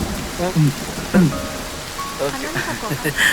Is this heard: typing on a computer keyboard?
no